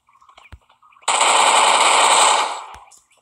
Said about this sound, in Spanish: Corre, Kevin. corre, dispara